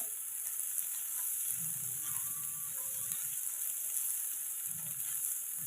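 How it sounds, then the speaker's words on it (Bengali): Snake gourd frying in a pan gives a faint, steady sizzle with a few soft, low stirring rustles, and no one speaks. "চিচিঙ্গাটা ভাজা হয়ে গেছে"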